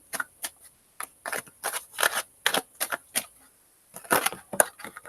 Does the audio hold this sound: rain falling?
no